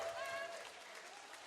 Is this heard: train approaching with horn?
no